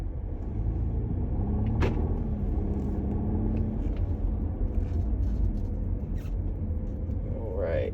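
Inside a 2017 Audi Allroad on the move, a low, steady engine and road rumble fills a fairly quiet cabin and holds at an even level throughout.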